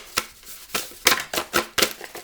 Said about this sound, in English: There, that's my shuffling.